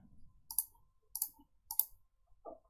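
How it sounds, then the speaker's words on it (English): Mouse clicks from someone playing an online card game: three crisp, close clicks spaced about half a second apart, with a short tonal game sound at the end and no talking. "I'm just clicking cards, you know, as they say."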